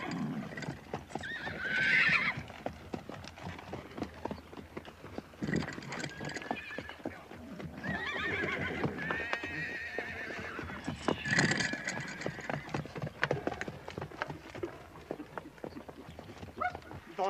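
Horses neigh and whinny while hooves clip-clop in a western film scene with cavalry horses being counted, the animal sounds mixed under spoken dialogue and steady background activity throughout.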